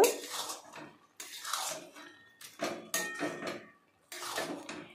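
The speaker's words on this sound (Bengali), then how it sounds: "এবার ভালো করে একবার নেড়ে নেব" A metal spoon scrapes and clatters against a pan while stirring pumpkin greens, in several short separate bursts with quiet gaps between them, close and fairly crisp, with no talking.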